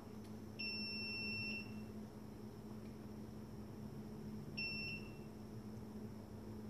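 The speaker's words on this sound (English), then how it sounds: "it buzzes when I have continuity back to the plug." A multimeter continuity buzzer beeps while wiring is traced back to the plug of an LS engine swap harness, two steady electronic tones, the first about a second long and the second shorter, clear and close over a low hum.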